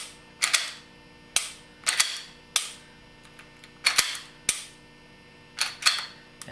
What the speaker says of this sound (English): Work the action a few times.